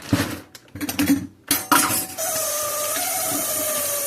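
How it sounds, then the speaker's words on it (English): A spaghetti squash being scrubbed with a food scrubber while washed, rough scraping and clinking contacts in choppy bursts, then a steady stream of running water takes over. "And I'm using my scrubber, y'all, on my squash"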